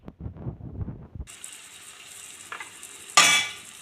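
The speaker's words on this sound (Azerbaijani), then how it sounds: "İndi isə pomidorları, doğradığımız pomidorları əlavə edirik." Chopped tomatoes go into a pan of fried tomato paste for a zucchini stew: a soft low rumble, then a steady hiss of frying, and a sudden loud sizzle burst as the tomatoes land near the end.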